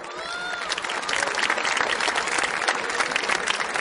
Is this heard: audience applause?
yes